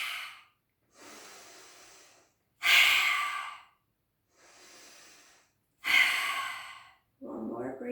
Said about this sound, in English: Nice strong out breath here, out through the mouth, breathing in through the nose and out through the mouth.